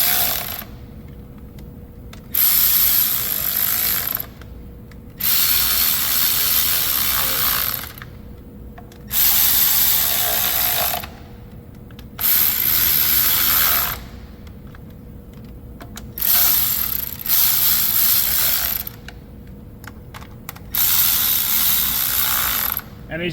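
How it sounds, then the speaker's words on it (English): Ratchet wrench tightening valve cover bolts in bursts of rapid clicking, several separate runs of a few seconds each with short pauses between, close and loud. "I tightened down in some semblance of a crisscross pattern or a circular pattern going from center out"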